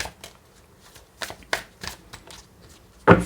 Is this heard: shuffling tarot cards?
yes